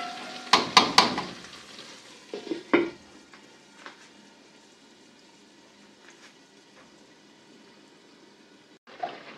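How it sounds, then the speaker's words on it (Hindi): Tomatoes cook in a covered pan on low heat for aloo palak, with a few sharp stirring clinks early on, then a soft, steady simmer and faint bubbling, ending in a lid knock, with no talking. "ये डाल के हम इसको हल्की आंच पे दम पे रखेंगे ताकि टमाटर हमारे थोड़े से सॉफ्ट होके गल जाएं।"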